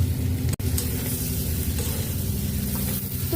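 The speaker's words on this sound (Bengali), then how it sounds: "এবার কচু আলু চিংড়ি সব একসাথে দিয়ে দিচ্ছি। আবারও একটু ভালো করে কষিয়ে নেব।" Taro, potato and prawns sizzle in oil-released spice paste while being fried down, a steady dense frying hiss running throughout with one brief dropout near the start.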